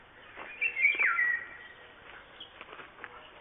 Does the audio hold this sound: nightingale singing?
yes